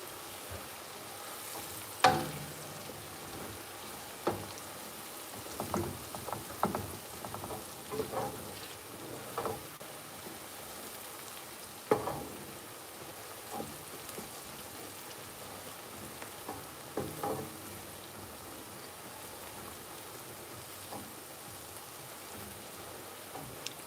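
An onion fries in a pan with a soft, steady sizzle and scattered crackles and pops, gentle and close, with no one talking.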